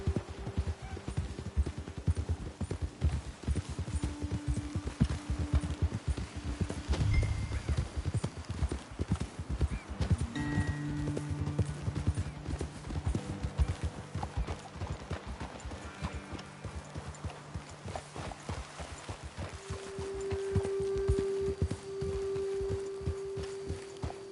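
Steady clip-clop of horse hooves walking at an even rhythm in the video game Red Dead Redemption II, close and continuous, with an occasional whinny and faint ambient tones beneath.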